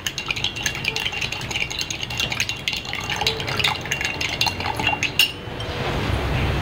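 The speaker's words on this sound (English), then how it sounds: "Give it a nice little stir." A mojito made with cane sugar and fresh lime juice is stirred in a glass at a rooftop bar, giving a steady run of light clinks and liquid swishing against soft background room noise.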